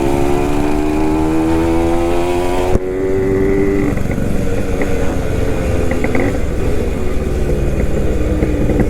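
Suzuki Max 100 motorcycle engine while riding, a loud, close, continuous buzzing drone whose pitch shifts partway through as the rider changes speed, with no talking.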